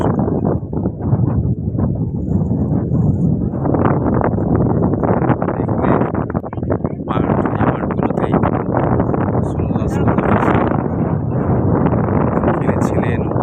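Strong cool wind buffets the microphone outdoors in Taif, Saudi Arabia, a loud continuous rushing roar with gusty swells throughout, while someone talks over it.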